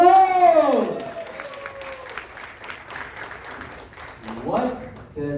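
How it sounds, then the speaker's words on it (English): An audience bursts into sustained applause and clapping, with an announcer's voice at the start and cheering voices rising near the end. "Can we give him a big round of applause?"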